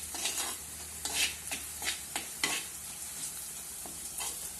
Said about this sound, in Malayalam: ആദ്യം മഞ്ഞൾപ്പൊടി ഇട്ട് അതിൻ്റെ പച്ചമണം മാറുന്ന വരെ ഒന്ന് ഇളക്കി കൊടുക്കണം